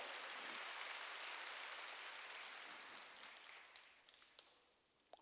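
Church congregation at a Korean Jesus-centered church applauding, a faint, distant burst of clapping that slowly thins and fades, leaving a few scattered claps at the end.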